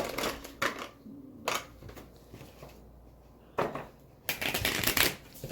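Playing cards being shuffled together into a new deck for the tabletop game SkyTear, producing several bursts of riffling and rustling with quieter handling between them.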